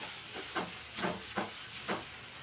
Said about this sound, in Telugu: ఉల్లిపాయ బ్రౌన్ కలర్ వచ్చేంత వరకు వేగనివ్వాలండి బాగా